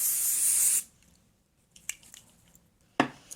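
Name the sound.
spray-on bronzer being sprayed on face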